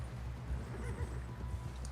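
Horse hooves clop steadily in Red Dead Redemption 2, a low rhythmic thudding over a dull ambient bed, with only a hint of a neigh and no talk.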